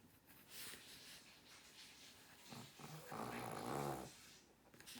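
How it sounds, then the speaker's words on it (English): A dog snores close by with slow rasping breaths, rising into a louder throaty growl near the end, with no talking over it. "That's my dog over here."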